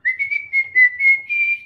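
A person whistles a tune, a clear, steady melodic whistle of short connected phrases, close and alone without any talk.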